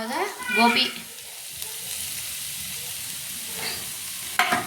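Grated cauliflower for a gobi paratha filling goes into a pan of fried chilli-garlic paste and is stirred, giving a soft sizzle and scraping that follow a short stretch of speech at the start.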